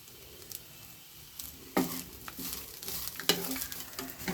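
Pirandai (adamant creeper) and tamarind sizzling in a hot pan for chutney, with a spatula stirring and scraping now and then, steady crackle underneath, close by.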